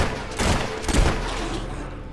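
Gunfire in the video game Fable III: a loud, close burst of rapid shots with heavy thumping low end, running for about two seconds.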